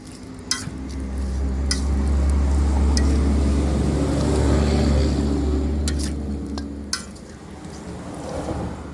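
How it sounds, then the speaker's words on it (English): Chicken pieces being stirred and tossed with black pepper and seasoning, making a steady close-up wet mixing and scraping sound with a low background hum and a few brief clicks. "So I'm mixing in the seasoning."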